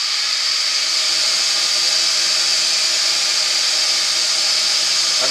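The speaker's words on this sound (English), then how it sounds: "Get the lathe spinning fairly quickly." A wood lathe spins steadily at fairly high speed while a woodturning foot massager roller is finished, giving a continuous airy whir with no talk.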